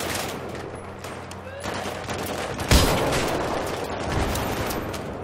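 Battlefield 3 gunfire crackles continuously throughout, with dense overlapping shots and a louder sharp burst midway, set amid a noisy battlefield din with faint voices underneath.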